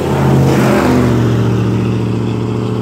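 A loud truck rumbles past near a rural Baptist church cemetery, its steady low engine drone filling the whole moment with no talk over it.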